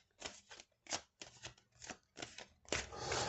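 A deck of playing cards being shuffled in a tabletop card game, a series of crisp riffling bursts with short gaps, ending in a longer continuous riffle, close and without talk.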